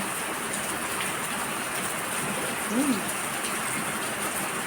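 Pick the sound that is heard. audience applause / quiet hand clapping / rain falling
rain falling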